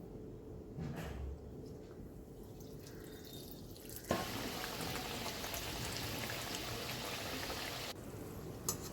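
A batch of khaja pastries deep frying in hot oil, giving a steady bubbling hiss that grows fuller and louder partway through, with faint clinks from the pan.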